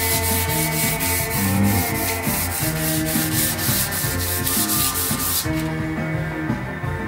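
A Fender Jazzmaster guitar neck being sanded by hand, with a steady, even rasp of brisk back-and-forth strokes, close and fairly loud, alone with no voices, going suddenly quieter near the end.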